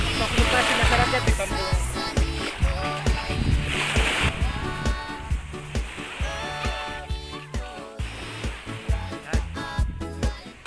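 Boat travel on the sea off Sinokisi beach in Jayapura, Papua, with a steady rumble and splashing water throughout and a loud, busy texture that holds for the whole stretch.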